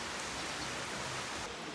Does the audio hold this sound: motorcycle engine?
no